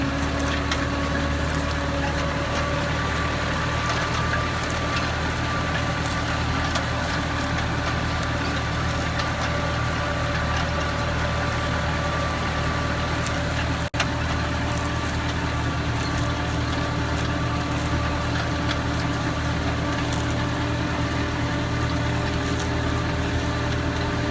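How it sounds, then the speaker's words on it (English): A tractor engine pulls a Danish tine cultivator through an organic soybean field, held by foot throttle at low RPM. It gives a steady, continuous drone with a constant rumble and no pauses or speech. "I have a foot throttle on this tractor, and that allows me to variate the speed"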